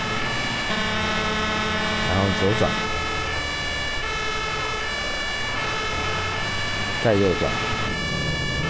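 A toy fire truck's electronic siren wails continuously in a rising and falling pattern, with brief bursts of extra tones, while a person talks over it.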